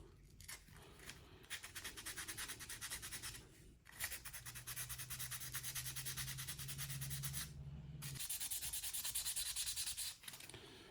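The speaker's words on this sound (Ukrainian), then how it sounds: "шліфуємо саму коронку" Rhythmic scratchy rubbing of a winter fishing lure being sanded by hand with an abrasive sponge, steady back-and-forth strokes with short pauses, close up.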